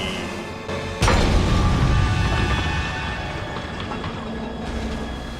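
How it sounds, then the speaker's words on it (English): Train approaching in the animated film The Iron Giant, opening with a sharp boom followed by a loud rumbling rush of the train that slowly fades somewhat. "The train is coming."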